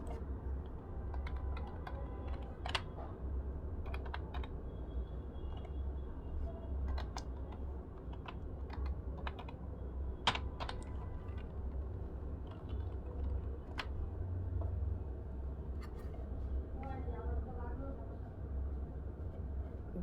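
Computer keyboard typing while entering text into a Canva design search, scattered key clicks over steady low background hum, close and moderately loud, with a person talking in Bengali throughout.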